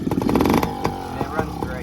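The small engine of a Yamaha PW50 motorcycle runs after a kick start, having sat for 15 years, with a close, steady buzzing putter and slight revs. A person talks over it throughout.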